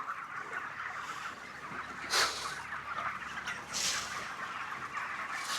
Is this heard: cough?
no